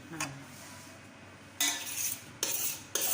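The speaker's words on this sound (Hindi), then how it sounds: "आलू और बाकी मसालों को अच्छी तरह मिक्स कर लें" Boiled mashed potatoes and spices for a samosa filling mixed in a pan, a few short bursts of scraping and clinking utensil strokes separated by quiet pauses, fairly faint.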